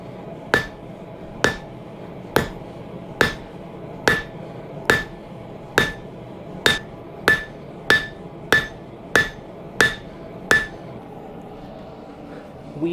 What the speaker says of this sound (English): You all should also be lifting the hammer with your shoulder.